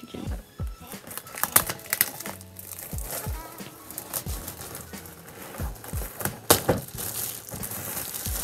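Sticky plastic packaging on an advent calendar is peeled and pulled open, making close crinkling, crackling and tearing sounds in uneven bursts, with a few sharper snaps.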